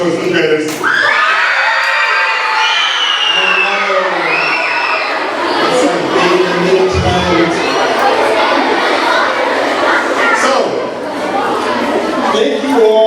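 A crowd of fifth-grade school children at a school assembly cheers, shouts and whoops loudly and continuously, with high-pitched yells rising above the din.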